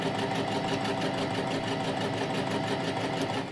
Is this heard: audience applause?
no